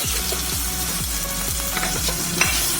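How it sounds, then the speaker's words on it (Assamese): Tomatoes sizzle and crackle in a hot pan while a utensil stirs with repeated scraping strokes, close and steady, with no talking. "বিলাহীখিনিও অলপমান ভাজিব লাগিব, যাতে কেঁচা কেঁচা হৈ নাথাকে"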